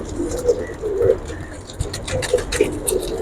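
Pigeons coo in soft, repeated low calls on a rooftop loft, with faint scratching and a voice speaking briefly in the background.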